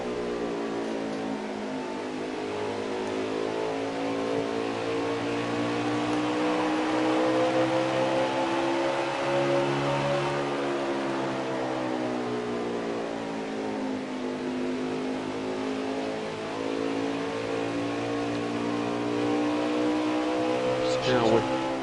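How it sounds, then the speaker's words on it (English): Race car engines rev in a long onboard run at Iowa in a Cup Series race, a loud sustained whine sweeping up and down in pitch as the car climbs and drops through the revs. "Just listen to the cars rev."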